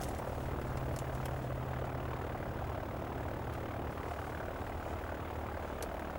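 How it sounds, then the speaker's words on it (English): The engine of a light aircraft drones steadily and evenly throughout, heard from inside the cabin as a continuous close hum with no talk over it. "Listen to the engine."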